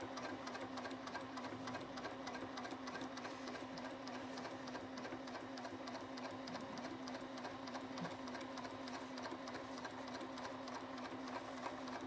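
New sewing machine stitching at top speed, a loud, steady, rapid mechanical whirring chatter with a fast even rhythm running unbroken throughout, close up.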